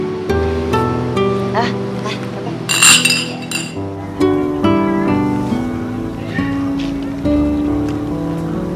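Glasses clink together in a toast to a younger brother and his new wife at a family celebration, with bright chimes rising over a steady bed of background music and voices.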